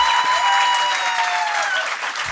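Audience at the Karachi Literature Festival applauding steadily for about two seconds, a dense, even wash of clapping heard close with no talking over it.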